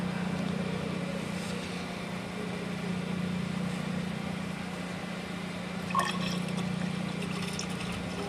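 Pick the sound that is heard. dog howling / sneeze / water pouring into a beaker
water pouring into a beaker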